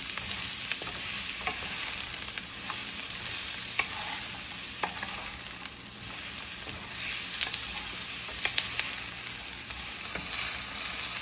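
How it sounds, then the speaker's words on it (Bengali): Onions sizzling and frying in a pan while being stirred, a dense steady hiss with scattered scraping clicks of the utensil, close and continuous, no voices. "পেঁয়াজ দিয়ে আমি পেঁয়াজটাকে কিছুক্ষণ ভাজতে থাকবো।"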